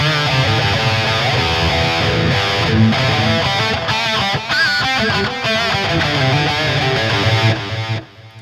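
A loud distorted electric guitar through a wah pedal and the JST Guilty Pleasure amp sim plays chords and notes with a sweeping, vocal-like wah filter shaping the tone, then stops abruptly at the end.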